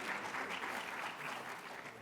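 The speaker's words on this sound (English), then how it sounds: "Please clap if you know them." An audience at a College of Medicine graduation convocation claps in a short, even burst of applause from a crowd heard at a moderate distance.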